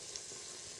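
Onions frying in a pan for an Assamese chicken curry, a steady close sizzle with faint crackle running the whole moment, no voices.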